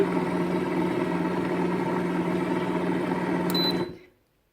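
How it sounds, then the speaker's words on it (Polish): An Alfa oil press running steadily while cold-pressing linseed oil, a loud continuous mechanical hum that stops abruptly when the machine is switched off, leaving silence. "Ok, ja wyłączę maszynę."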